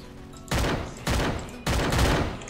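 Three loud bursts of automatic gunfire in the Free Fire mobile battle royale game, each a sharp onset followed by a decaying rattle, spaced roughly half a second apart.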